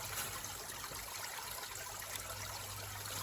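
Water trickles into a small container outdoors as a steady, soft, continuous wash that stays faint and even from start to finish, with no talking.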